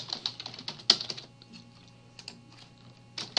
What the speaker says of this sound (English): what we can do is we could type